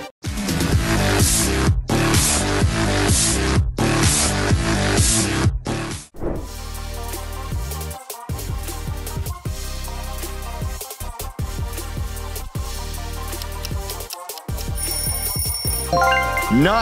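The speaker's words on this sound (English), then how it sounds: "That's the sound of KFC." KFC brand audio logo, a bright musical sting heard alone: a dense, loud first section of about six seconds, then a shift into a second, choppier passage with brief gaps, with no talking.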